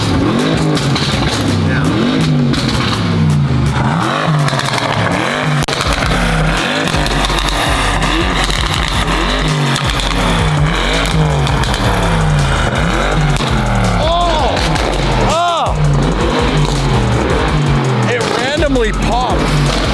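Loud, aggressive exhaust of a heavily modified Bentley Continental GT revving and roaring up and down continuously, with popping and crackling, as a voice talks over it.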